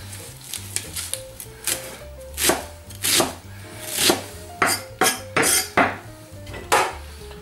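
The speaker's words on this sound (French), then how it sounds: "On va prendre maintenant une partie du persil. Et on va le couper sommairement" A knife roughly chops fresh parsley and coriander on a board for a jalapeño zhug sauce, about a dozen sharp, uneven thuds in loose bursts with short pauses between them.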